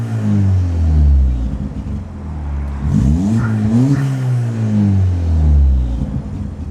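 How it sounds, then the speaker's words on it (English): A car engine on a track-day car with a fitted blow-off valve runs with a deep, rough idle rumble, rises in a quick rev around the middle, then settles back to an uneven idle, loud and close. "we're looking for the revs to come back down quite quick."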